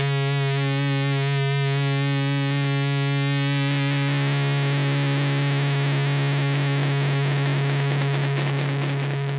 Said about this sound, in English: we're messing around with the Shooksand Fuzz from our good friend Dan DeMay over there